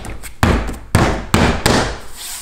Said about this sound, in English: you can kind of give it a bang